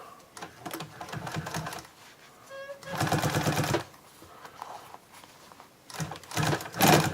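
Sewing machine running in several bursts of stitching while sewing a top stitch on a radio box liner, with short pauses between runs, close and moderately loud.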